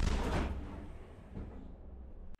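A single heavy M109 howitzer shot opens with a deep, powerful blast, then rolls away in a long rumbling echo that fades out, near Bakhmut.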